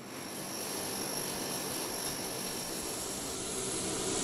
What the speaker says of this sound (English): The propellers on the right wing, engine numbers 3 and 4, initiate the starting sequence